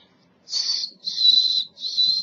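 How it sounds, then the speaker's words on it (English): Three high, airy whistles through a gap in the teeth in quick succession, each a sustained shrill tone with a slight breathy edge, heard up close. "I'm going to whistle through the gap in my teeth."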